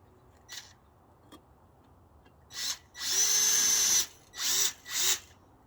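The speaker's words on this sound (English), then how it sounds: "what I'm doing is I'm just kind of preliminary putting in some screws here" A power drill drives screws into a rotten camper wall during jack repair: a short blip, then several close, loud whirring bursts, one long and two brief, separated by quiet pauses.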